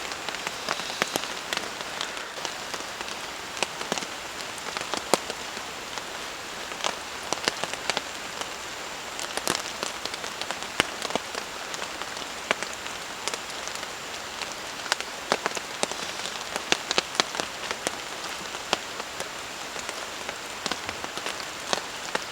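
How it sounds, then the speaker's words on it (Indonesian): Steady rain patters on a campsite at night, a dense continuous hiss broken by frequent sharp drops striking close surfaces, with no voices. "Jadi ini hujannya nggak berhenti-berhenti ya, dari sore sampai tengah malam seperti ini masih aja hujan teman-teman."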